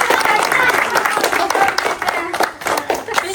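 An audience applauds a teacher during a group outing to Qizilagach National Park, a dense patter of clapping mixed with crowd noise and overlapping voices.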